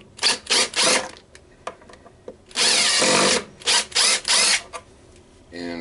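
A cordless power drill drives a screw into a thick catalpa wood bowl blank on a lathe, loud whirring bursts in short pulses and one longer sustained run, with quiet gaps between.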